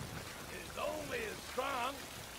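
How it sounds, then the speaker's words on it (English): Steady rain falls in a scene from the HBO World War II drama The Pacific, a soft, even wash of drops running beneath voices speaking over it. "The rain came and went so quickly."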